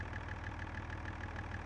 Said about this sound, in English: Oh, that's a nice sounding tractor.